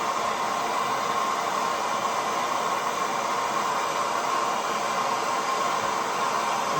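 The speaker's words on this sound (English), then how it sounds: "now we got this torch going" A torch roars with a steady, even hiss while heating the end of a spring steel pull start coil for a Honda HR214 lawn mower, constant and close with no talk.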